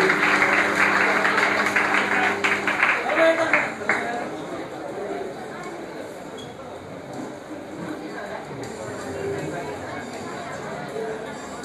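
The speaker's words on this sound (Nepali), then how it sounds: "जोरदार तालीले सम्मान प्रकट गरिदिनु म अभिनन्दनतापूर्वक अनुरोध गर्न चाहन्छु" An audience at a poetry event honouring poet Basanta Chaudhari breaks into loud, dense clapping for about four seconds, which then fades into a low crowd murmur and chatter.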